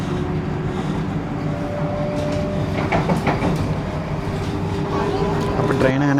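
Vande Bharat Express train runs between Trivandrum and Shoranur, heard from inside as a loud steady rumble with rail clatter and a rising whine. Talk carries on over the noise.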